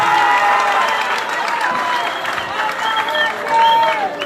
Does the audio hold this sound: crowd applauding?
yes